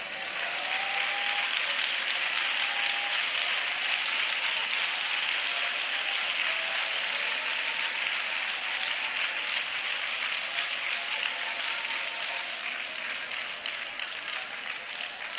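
A church congregation clapping during worship, a steady, distant wash of applause that holds at an even level for about fifteen seconds.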